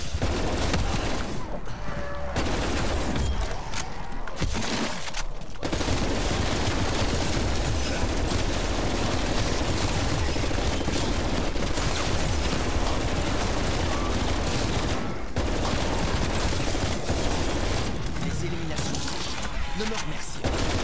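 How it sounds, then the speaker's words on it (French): A burst bomb effect goes off in Call of Duty: Black Ops Cold War amid continuous, dense rapid gunfire and explosions, loud throughout with brief lulls, while players talk over the din. "c'est le bail de bombe, l'effet de bombe en rafale"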